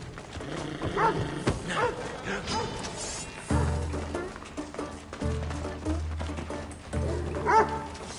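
A dog in a video game barks and snarls in rough, growling bursts amid mechanical game noise and a steady musical drone, fairly close and moderately loud.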